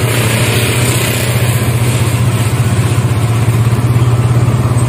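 A Suzuki GSX-R150 motorcycle engine held steady at about 2000 rpm, a close, loud, continuous low thrum with a fast even pulse and no talk over it.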